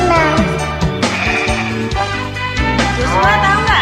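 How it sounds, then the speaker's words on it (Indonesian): Goat bleats several times in a row, loud and close, over a child's song with musical accompaniment. "Ini binatang apa? Kambing."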